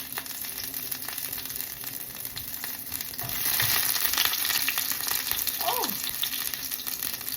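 Thawed garlic frying hard in a hot pan, a steady broadband sizzle that swells louder midway, with a brief high squeal-like sound near the end.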